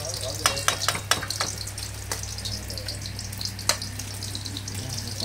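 Chicken fat sizzles in a hot frying pan, a steady crackling hiss broken by a few sharp clicks of a utensil against the pan, with a low hum underneath.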